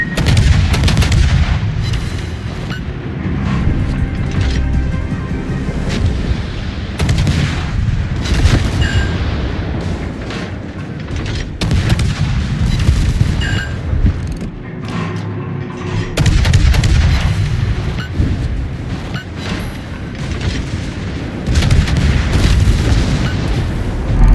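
Heavy naval gun salvos from warships in World of Warships boom repeatedly, loud, deep blasts and rumbling impacts layered over constant battle noise throughout.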